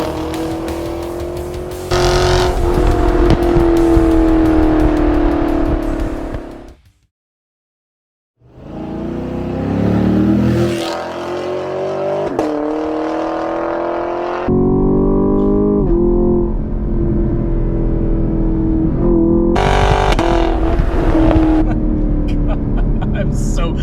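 A 2023 Chevrolet Camaro SS with its sixth-generation V8 roars loudly from close by, revving and accelerating in sustained pulls broken by a brief silent gap, with someone talking over parts of it.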